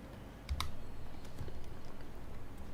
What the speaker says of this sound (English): So if I type in